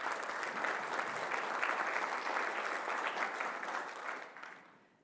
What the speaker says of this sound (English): Can we please give all the speakers and sponsors a huge round of applause?